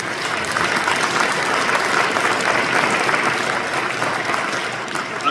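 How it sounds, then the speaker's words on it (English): Audience applause at a thank-you gathering for MP Larry Maguire, a dense, steady clapping that holds loud and even for about five seconds with no voices over it. "so applause for our MC"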